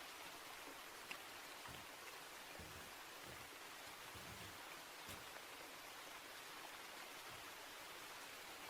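Steady soft rain falling at night, a faint, even hiss with occasional light drips, no voices.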